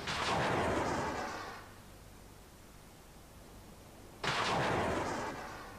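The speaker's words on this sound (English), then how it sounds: "Chaff rockets burst near the ship, producing a cloud of fine aluminium needles." Naval chaff rockets fire and burst near a warship, heard as two loud, broad rushing blasts that fade slowly, separated by a stretch of steady hiss.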